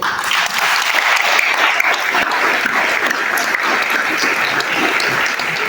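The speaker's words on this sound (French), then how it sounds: "je demande à tout le monde d'applaudir le courage du coordonnateur, M. Davidson Clough" Sustained, loud audience applause for an event coordinator at a ceremony, dense clapping from a large crowd holding steady for several seconds with no voices on top.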